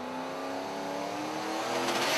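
A drag racing car accelerates hard down the quarter-mile at Capitol Raceway, its engine a rising harmonic whine that grows louder and brighter toward the end.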